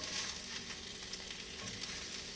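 Bok choy sizzles in a hot pan, giving a steady, close frying hiss with light crackles and no voices.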